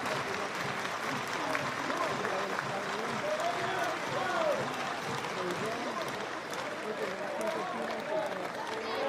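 Crowd noise from a packed Sunday-night college baseball stadium at a North Carolina vs LSU game, a steady wash of cheering and clapping with a public-address voice talking over it.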